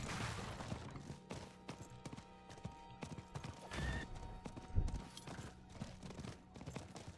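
Horse hooves clip-clop in a steady galloping rhythm while riding a mount in the video game Diablo IV, close and moderately quiet over a faint game soundscape with no talking.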